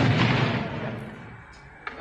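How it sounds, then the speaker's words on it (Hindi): A truck blown up in a deliberate blast by security forces at Nagrota, a heavy boom opening at full strength then rumbling and fading, with a faint sharp pop near the end. "देख सकते हैं ट्रक को किस तरीके से उड़ाया गया, इस पर धमाका हुआ।"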